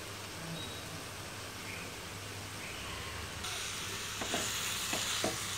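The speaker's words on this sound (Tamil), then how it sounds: "இதை மிக்ஸ் பண்ணி விடுவோம்." Radish gravy stirred in a pan just after tamarind water goes in, giving a steady soft scraping and faint sizzle that grows a little brighter toward the end, with a few sharp spoon knocks near the close.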